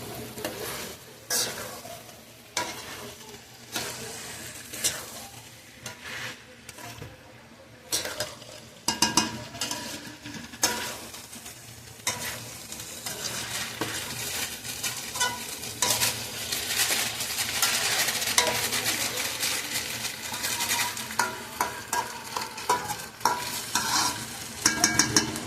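Mixed vegetables stirred and frying in a pan: a continuous close sizzle broken by repeated utensil scrapes and clanks against the pan, growing louder and busier over time, with no voices.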